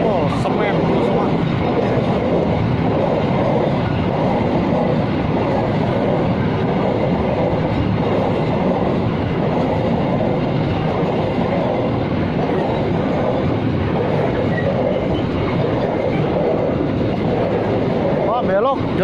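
A long freight train hauled by locomotive CC06-1311 rumbles past steadily and loudly on the Nambo line in Indonesia, with continuous wheel noise and rhythmic clacking on the rails throughout.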